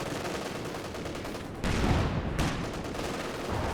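Gunfire and a Sherman tank's cannon in a Company of Heroes 2 match, dense repeated shots with a heavier burst in the middle, continuous and fairly loud.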